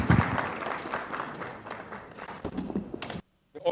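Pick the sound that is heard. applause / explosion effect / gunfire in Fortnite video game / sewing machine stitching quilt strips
applause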